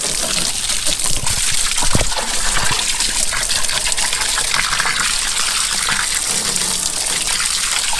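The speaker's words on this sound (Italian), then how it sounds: "Andiamo anche qui a inserire acqua pulita e a dare una bella miscelata a tutti" Clean water pours and gushes into the filters of a house septic tank in a woodland home, a steady loud splashing rush that runs the whole time with small clinks and bumps near the start.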